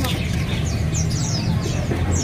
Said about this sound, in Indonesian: burung cuca hijau